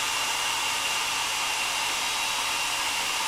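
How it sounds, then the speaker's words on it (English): Hairdryer blowing on primer-coated foam parts of a cosplay axe, a steady loud airy roar with a constant motor whine, unchanging throughout with no voices. "used a hairdryer to speed it up"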